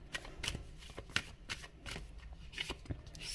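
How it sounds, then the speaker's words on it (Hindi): Tarot cards are handled, shuffled and laid out on a surface for a reading, quick repeated riffles and soft slaps with papery flicks, close and quiet, with no one speaking. "कार्ड्स मैं आपके सामने रख देती हूँ"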